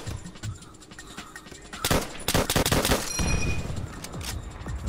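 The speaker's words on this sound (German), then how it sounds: "wirklich immer gut, wenn ich das Magazin komplett leer ballere" A machine gun in Call of Duty: World at War fires long, loud, close bursts until the magazine runs dry, with a few other shots and battle noise around it.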